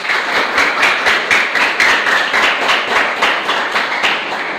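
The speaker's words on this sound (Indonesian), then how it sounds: "Tepuk tangan untuk semuanya." A classroom of students claps together in a steady, continuous burst, loud and close, during an Islamic creed lesson for a seventh-grade class.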